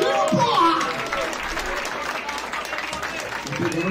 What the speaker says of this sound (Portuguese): Palmas, família!